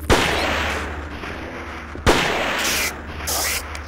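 Two loud gunshots from a handgun firing at a spider in the survival horror game SIREN, each a sharp blast at about 0.1 and 2.1 seconds followed by a long reverberant tail over low ambient game drone.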